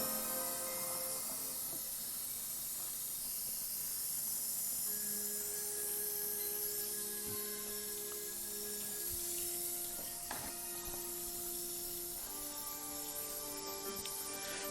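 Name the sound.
water rinsing developing film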